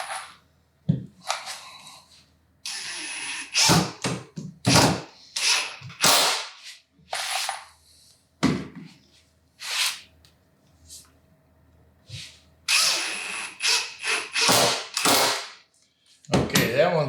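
Loud snapping clicks and squeezes as clamps are set on pocket-hole face frame pieces, in bursts with short pauses, close and punchy.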